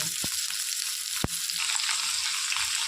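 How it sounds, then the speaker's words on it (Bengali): Eggplant and potato fry in oil with nigella seeds and green chili, an even, close sizzle punctuated by two sharp taps of a utensil against the pan, with no speech. "এবার আমি বেগুনটা আলুটা ভালো করে ভেজে নেব"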